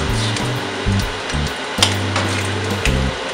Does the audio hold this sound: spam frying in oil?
yes